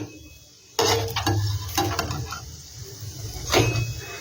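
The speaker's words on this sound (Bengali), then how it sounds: "অল্প তেলেই এটা ভাজা হয়ে যায়।" A semolina snack fries in a small amount of oil, giving a steady soft sizzle with a few louder bursts of crackling and stirring scrapes, close up and with no talking.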